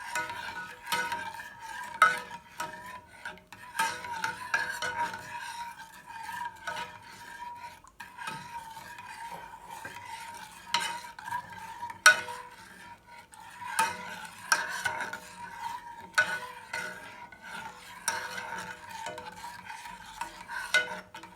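A spoon scrapes and stirs a hot, bubbling nut and fruit granola mixture in a pot on a stove at high heat, with steady rasping strokes and faint sizzling throughout, no talking.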